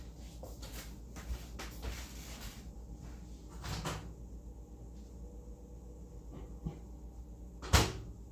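A kitchen microwave oven door opens and closes as a dish of nachos goes in, a few faint soft knocks and clatters, ending in a sharper thud near the close.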